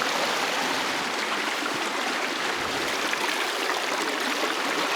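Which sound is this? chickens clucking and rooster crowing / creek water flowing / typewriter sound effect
creek water flowing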